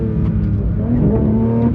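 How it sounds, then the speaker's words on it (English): A Porsche 992 GT3 RS pulls away hard under launch control, its engine a steady, loud, close roar through the whole moment, with no talking. "First time hitting launch control on the new car."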